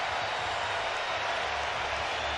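A large arena crowd of about 20,000 at Staples Center roars steadily during the Errol Spence vs Shawn Porter boxing match, a continuous broad wash of cheering and clapping.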